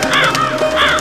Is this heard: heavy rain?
no